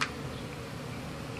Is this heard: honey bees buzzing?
yes